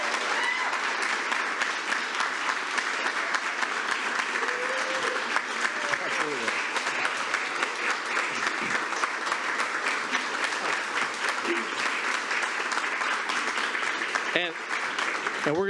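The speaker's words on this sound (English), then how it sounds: "Let's give them a round of applause" Steady, sustained applause from the audience at a school district board meeting honours the state-champion journalism team, dense clapping that runs for about fifteen seconds while a few voices murmur underneath.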